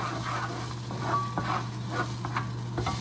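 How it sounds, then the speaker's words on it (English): A spoon stirs tomato paste into a pot of homemade pasta with olive oil, giving soft scraping and wet patter against the pot over a steady background hum, close and moderately loud. "so tomato paste going in. Okay, let's give that a quick stir."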